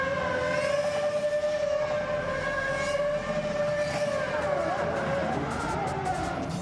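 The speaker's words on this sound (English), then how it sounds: "donuts par excellence." Ferrari cars spin donuts on the Imola circuit tarmac, their engines holding a high, sustained wail that swoops up and down in pitch as they rev, heard from a distance over a busy crowd backdrop.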